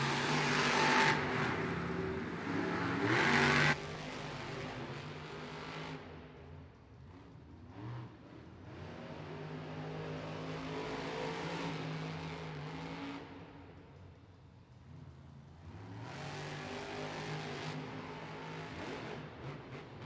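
Monster Jam trucks Grave Digger and El Toro Loco race at an arena event in Arnhem, Netherlands: engines roar and rev at a distance, swelling and fading across a long stretch with crowd ambience.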